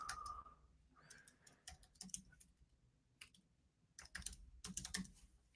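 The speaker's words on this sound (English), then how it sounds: "Let me go ahead and type in another email." Keys clack on a computer keyboard while an email address is typed, with quick uneven bursts of close, soft clicks and short pauses between.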